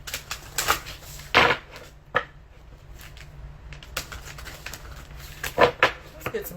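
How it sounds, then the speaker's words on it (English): Tarot cards are shuffled in a handful of brisk, crisp riffling bursts separated by quiet gaps, close and moderately loud. "Let's get some good shuffles."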